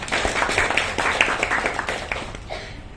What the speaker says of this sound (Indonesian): kita beri tepuk tangan untuk kami